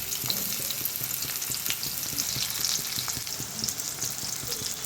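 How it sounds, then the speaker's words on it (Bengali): Onions fry steadily in hot oil in a wok for a Bengali-style jackfruit and prawn dish, a continuous close crackling sizzle with no voices. "কড়াতে তেল দিয়ে দিয়েছি, তেলটা গরম হয়ে যাবার পর পেঁয়াজগুলোকে এবার ভেজে নেব।"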